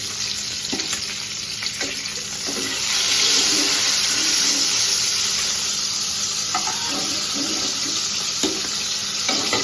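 Fish sizzle loudly in hot oil in a pan while being fried for a prawn malaikari, giving a steady close crackle with occasional scrapes and knocks from a spatula.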